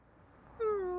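A cat meows in the Broken Sword point-and-click adventure game. A single short, clear meow rises out of quiet background hiss and holds briefly.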